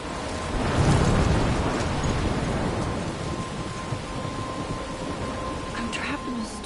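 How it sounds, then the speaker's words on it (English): A storm in the video game Life is Strange, with heavy, continuous rain hissing across the whole scene and a deep thunder rumble peaking early, then settling into a steady downpour. "I'm trapped in a storm?"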